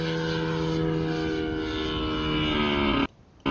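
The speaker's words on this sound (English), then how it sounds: "Prop airplane." A propeller-driven RC airplane flying past, a loud, steady droning engine with a strong harmonic whine that cuts off abruptly near the end.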